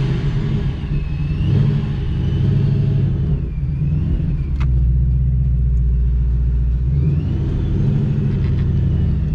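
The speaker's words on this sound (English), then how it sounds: "It's got a racing blow-off valve." A boosted 2019 Ford Mustang Bullitt V8 with a racing blow-off valve, heard up close as a loud, steady engine rumble with rising and falling revs and a brief sharp release mid-drive.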